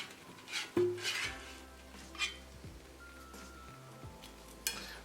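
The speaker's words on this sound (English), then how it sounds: "And I'm going to pull the basket out." The basket slides out of an air fryer after cooking catfish, giving a few faint clunks and metallic knocks against a quiet background with a low hum.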